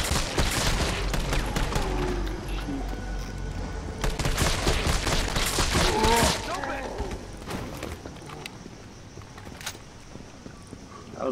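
Bursts of gunfire in the video game Resident Evil 3 Remake, rapid shots crackling over game noise and footsteps for several seconds before easing off, with a player talking over it.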